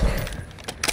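A short metallic clatter as a weapon magazine is swapped in Call of Duty Modern Warfare 2, a low thump followed by two quick jangling clicks.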